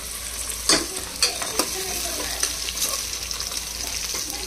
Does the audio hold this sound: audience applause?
no